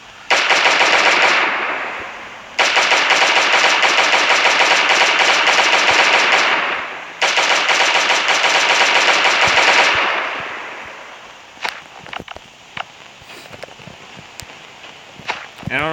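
Assault rifle fire in the video game Last Day on Earth comes in three loud sustained automatic bursts, each lasting a few seconds with short pauses between, followed by quieter scattered clicks and small impacts.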